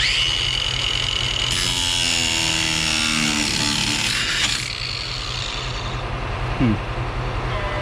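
Abrasive cutoff wheel grinding through a worn part on a 1966 Ford F-100 4x4, a loud continuous high-pitched whine with shifting pitch as the wheel bites into the metal, steady throughout at close range.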